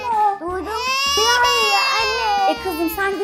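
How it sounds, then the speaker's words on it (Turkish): A toy baby doll gives a loud, high, wailing infant cry in repeated sobbing bursts during a children's pretend play with dolls, close and clear. "Aa bir bebek ağlama sesi duyuyorum"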